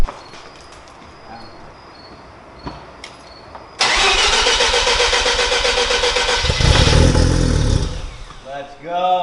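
A Mazda RX-7 rotary engine fitted with a new exhaust cranks, fires up abruptly and settles into a loud, choppy idle with a couple of throttle blips, after a quiet lead-in with faint handling noises; a voice briefly speaks near the end.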